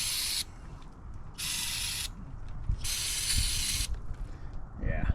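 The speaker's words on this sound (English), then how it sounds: "might just spray a good amount of cleaner just up inside" Cleaner sprays in three long, loud hissing bursts inside a camper toilet bowl, separated by short pauses, with faint handling noises between and at the end.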